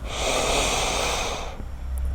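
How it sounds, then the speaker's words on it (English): One slow, deep breath through the nose during a yoga flow, a long airy inhale or exhale close to the mic, ending in quiet with no talk. "Deep inhale. Long exhale."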